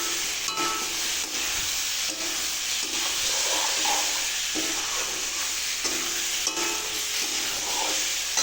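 Cumin and turmeric powder sizzling and being stirred in a frying pan, a steady close hiss with the repeated scrape of a spatula throughout.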